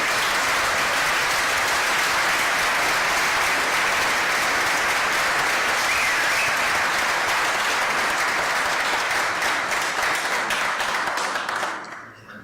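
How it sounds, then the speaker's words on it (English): A large conference audience applauds in a steady, dense wash of clapping that carries on for several seconds before fading out at the end. "So please clap again your hands."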